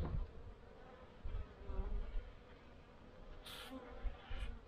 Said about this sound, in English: Bees are coming out.